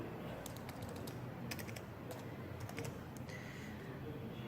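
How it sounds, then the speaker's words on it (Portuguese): Quick, irregular keystrokes on a computer keyboard as a password is entered, sharp clicks scattered over a steady low background hum, close and fairly quiet. "Você vai digitar a sua senha atual"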